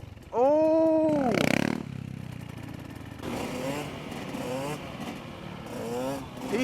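A motocross bike pulls a power wheelie, its engine revving loudly in a rising and falling sweep, then revving again in shorter bursts further off while excited voices talk over it.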